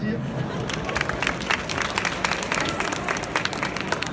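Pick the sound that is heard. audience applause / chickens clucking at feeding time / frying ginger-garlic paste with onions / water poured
audience applause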